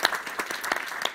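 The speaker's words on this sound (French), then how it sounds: "Oui, vous pouvez l'applaudir." An audience claps for a guest being introduced, with scattered, moderately faint hand claps that come in a brief, uneven burst.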